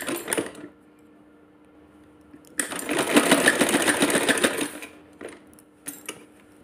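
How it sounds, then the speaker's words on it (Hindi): A sewing machine stitches a small woollen doll dress in a burst of rapid rhythmic whirring lasting about two seconds, framed by quieter clicks and handling noises, close by. "इसको यहाँ पे ला के इस तरह इस पर हम सिलाई लगाएंगे"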